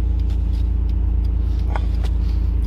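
Nissan R32 GTR with a LINK ECU and Haltech conversion, heard from inside while driving, a steady low engine drone and road rumble at even cruising load, fairly loud and continuous.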